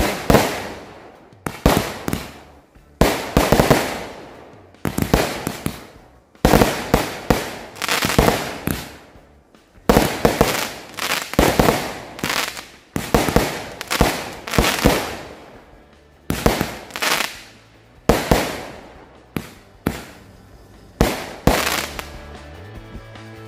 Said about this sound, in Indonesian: Itu dia hasilnya dari mercon Roman Candle Gladiator.